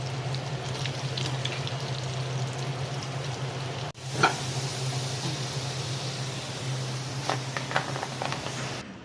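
Potatoes frying in hot oil give a continuous loud hiss and bubbling sizzle, with a brief dip and sharp crackle when more pieces go in, under a steady low hum.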